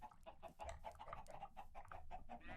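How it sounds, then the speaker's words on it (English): Minecraft chickens cluck repeatedly in quick, even bursts throughout, faint but steady, with no talk over them. "Maybe should we try and push the chickens in the hole?"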